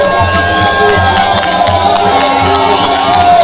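A huge crowd at a political rally in Kano roars and cheers loudly, with whoops and shouts over a dense wash of voices and a few rhythmic drum-like thumps underneath.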